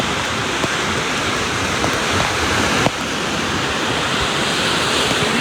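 Heavy early-morning rain pouring over Dwarka, a dense, loud, unbroken roar of falling water that stays even and continuous from start to end, with no voices.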